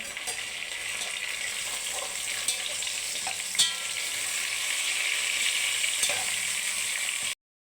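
Crushed cardamom, cinnamon and bay leaf fry in hot oil for mutton curry, a continuous close sizzle with a few spoon scrapes and clicks and no voices.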